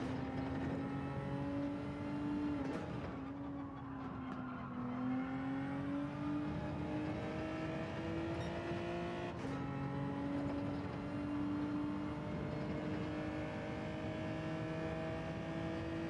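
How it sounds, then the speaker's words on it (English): A race car engine in the Gran Turismo 7 video game drones steadily in fourth gear, its pitch climbing as revs build, dipping briefly at shifts, then rising again in a long, continuous whine. "Not revving it enough in fourth."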